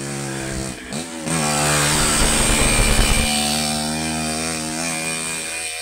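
Loud motorcycle engines roar and rev nearby, a dense mechanical drone that swells into a harsh burst before settling into a steady, throaty hum.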